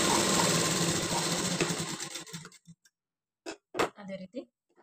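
Sewing machine running a double line of stitches along a half-inch margin on a blouse shoulder seam, a steady dense whir for about two seconds that slows and stops, followed by short soft clicks and handling.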